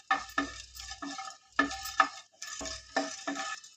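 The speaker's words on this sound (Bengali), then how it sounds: "হালকাভাবে ভেজে নিচ্ছি।" Whole spices such as peppercorns, cloves, mace, cinnamon and a flower being dry-roasted and stirred in a pan, heard as rhythmic scraping strokes in pairs with short pauses, close and fairly soft.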